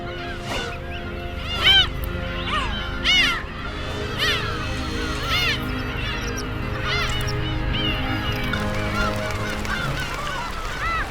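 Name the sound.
colony of black-tailed gulls calling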